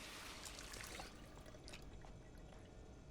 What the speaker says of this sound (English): I'm going to fill my water bottle.